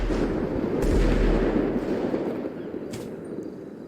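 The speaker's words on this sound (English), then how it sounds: "Does that sound like grenades? I mean, I saw explosions over the building." Explosions in GTA roleplay: a dense, continuous rumbling barrage of low booms and crackles, loud and sustained, easing off slightly toward the end.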